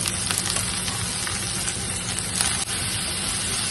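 Cabbage, beans, green chilli and curry leaves sauté in a pan for Kerala-style upma, giving a steady, close hiss of frying with faint stirring scrapes throughout.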